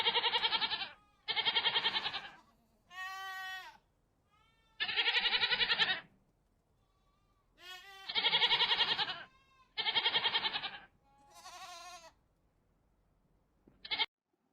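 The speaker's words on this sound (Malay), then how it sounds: "Sekarang kita nak mendengar bunyi kambing." A goat bleats repeatedly and clearly, about seven or eight separate wavering calls with short pauses between them, close and alone with no other noise.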